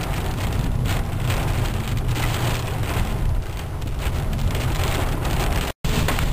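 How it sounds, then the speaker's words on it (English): Hail from a supercell thunderstorm pounds down in a dense, loud, continuous roar of impacts that holds steady throughout, with no voices. "Come on, hail!"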